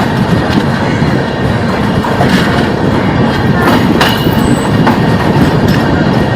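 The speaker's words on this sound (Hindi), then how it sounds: "प्लेटफॉर्म छोड़ते बिहार संपर्क ने रफ्तार पकड़ लिया है" The Bihar Sampark Kranti superfast express, running from New Delhi to Darbhanga, leaves the platform and picks up speed, with a loud, close, continuous rumble, rhythmic clickety-clack of the wheels and faint metallic squeals.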